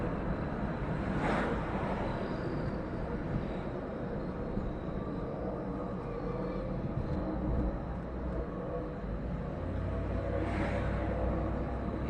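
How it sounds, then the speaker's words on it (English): A distant jet plane roars across the sky as a steady, broad low rumble that persists throughout, fairly faint and alone without speech. "It sounded like jet planes and dragons. And it's loud."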